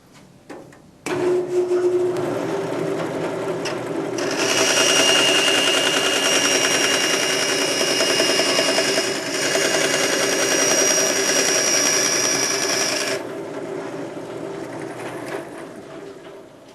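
A bandsaw cuts down larger metal stock, a steady loud grinding whine that runs for about twelve seconds after a short motor start, then trails off at the end.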